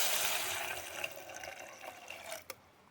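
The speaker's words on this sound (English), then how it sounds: "we're going to add some water" Water pours in a steady hissing stream into a cooking pot over buttered ingredients, fading toward the end and stopping with a brief clink.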